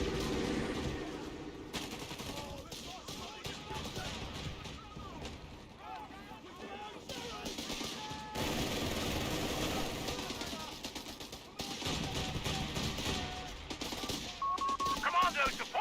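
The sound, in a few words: machine gun fire in video game Company of Heroes 3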